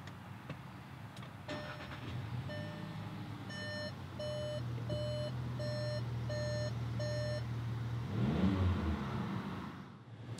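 A 2019 Volkswagen Jetta R-Line starts by push button: a few clicks, then a row of evenly spaced chime beeps over a low idle, and the engine catches with a brief rising rev near the end.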